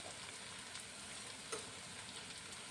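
Spice masala of garam masala with softened tomato fries for palak paneer, a steady close broadband sizzle running throughout with a brief stirring scrape near the middle.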